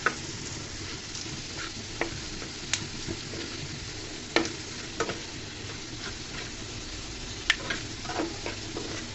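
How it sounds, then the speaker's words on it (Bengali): Potatoes frying over low heat in a pan and being turned with a spatula: a quiet, steady sizzle with soft scraping strokes and a few sharp clicks of the utensil against the pan. "নেড়ে চেড়ে আমি আলুগুলোকে ভাজা ভাজা করে নিব।"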